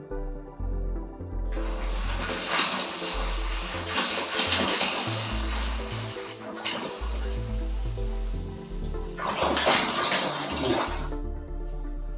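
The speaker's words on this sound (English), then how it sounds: "I try and tip it in from a height, because as the water splashes in, again it creates more oxygen" Water tipped from a height into beer wort for a Muntons Limited Edition Winter Ale brew, a loud continuous splashing pour that swells and eases in waves, close up with no talking.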